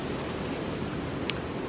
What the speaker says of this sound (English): You can hear the ocean in the background